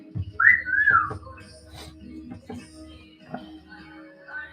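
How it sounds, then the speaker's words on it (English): A two-note wolf whistle rises then swoops down, loud and close, followed by faint background sounds and soft movement. "You just wolf whistle yourself."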